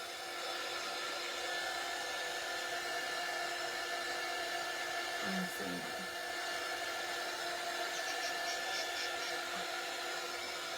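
A hair dryer blows steadily over a fresh coat of paint, giving a constant loud whooshing hum from start to finish with only faint, brief knocks in the background.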